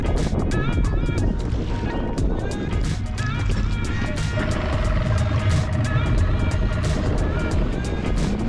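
A fishing boat motor on Norfork Lake roars steadily at speed, loud and continuous, with rushing wind and water noise throughout.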